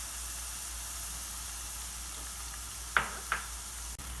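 Carrots sautéing in a hot pan with garlic for restaurant-style egg fried rice, giving a steady soft sizzle and hiss throughout, broken near the end by a couple of light clinks of a utensil.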